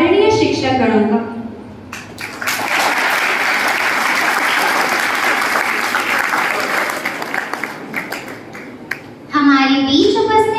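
An audience at a Guru Purnima celebration at Shri Guru Nanak Higher Secondary School in Damoh, Madhya Pradesh, bursts into sustained loud applause for about seven seconds. An announcer speaks just before and after the clapping.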